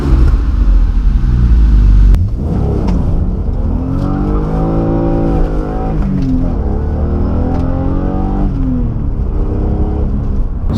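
A BMW E36 M3 engine under way: after a short loud burst, the exhaust note climbs and falls through repeated rising rev sweeps, close and prominent, with no talking.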